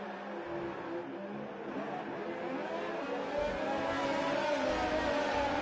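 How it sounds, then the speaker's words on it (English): Race cars on track in an F1 racing sim at Abu Dhabi, a continuous engine whir that builds louder as the cars run close together and pass. "He's going to make the pass on Collingwood"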